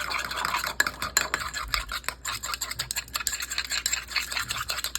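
A 1-to-1 condiment mixture is mixed in a bowl with steady, scraping strokes, close and fairly loud, with no talking.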